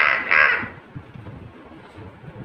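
A person's voice imitates a crow with one loud, close caw, then only faint low background noise follows.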